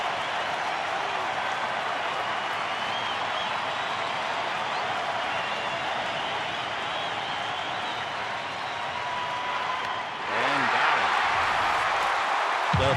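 Baseball stadium crowd with two outs, a steady roar of cheering and applause that swells loudly near the end as the strikeout lands, under a broadcaster's voice.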